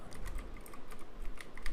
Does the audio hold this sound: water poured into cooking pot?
no